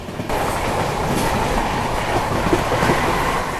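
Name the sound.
Vikramshila Express train running at about 110 km/h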